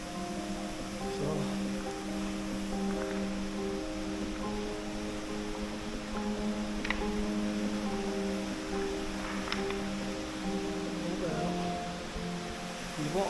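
A Yorkshire Dales waterfall gives a steady, broad rushing hiss at a distance, with people talking over it.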